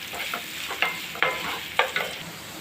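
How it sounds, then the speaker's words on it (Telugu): Thinly sliced onions fry in hot oil, a soft steady sizzle broken by several sharp scrapes and clinks of a spatula stirring the pan, heard close with no voices. "ఉల్లిపాయలు బాగా బ్రౌన్ కలర్ వచ్చే వరకు వేసుకోవాలి."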